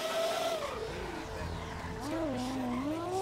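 An old truck's engine in GTA 5 revs loudly and rises and falls in pitch, close up, with tire squeal and driving noise mixed in and no voice over it.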